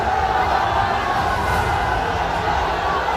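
An angry crowd massed outside a mosque in Uttar Pradesh during unrest over Nupur Sharma's remarks, a continuous dense roar of many shouting voices, loud and steady throughout.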